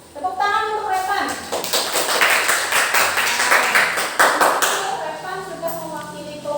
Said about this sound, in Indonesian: Tepuk tangan untuk Repan